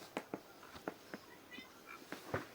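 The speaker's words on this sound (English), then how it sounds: "Probably my cat." A house cat makes faint noises in the background: a few soft, scattered clicks and short chirpy meow-like sounds in an otherwise quiet room.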